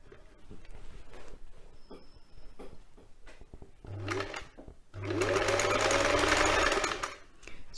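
A sewing machine runs straight-line stitches on a quilt cover in two bursts, a brief whir and then a longer loud steady drone, after quieter handling clicks and rustles.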